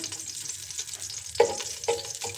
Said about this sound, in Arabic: هنزل كده باللحمة نديها تشويحة كده